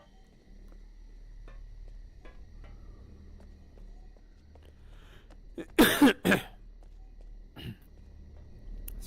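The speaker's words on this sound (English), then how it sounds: "Sorry for the coughs." A few harsh coughs burst out close to the microphone, two quick loud bursts and a softer third, during a VR game stream of Obduction, with quiet game ambience and faint footsteps around them.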